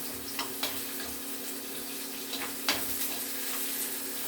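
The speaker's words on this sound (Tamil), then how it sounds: "வெங்காயம் போட்டுருவோம். வெங்காயம் நல்லா சவக்கணும்." Onions frying in a pan with capsicum for a village-style kara bath, a steady low sizzle throughout with a few faint clinks of stirring, no talk.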